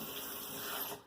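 Tap water runs into a kitchen sink while broccoli is washed, a close, steady rushing stream that cuts off abruptly at the end.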